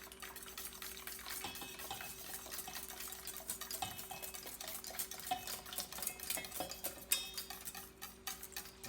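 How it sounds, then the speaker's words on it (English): Buttermilk being whisked into blueberry pancake batter, a quiet run of clinks and ticks as the whisk scrapes the bowl, steady and close with no talking. "we can take our buttermilk and slowly whisk in the buttermilk"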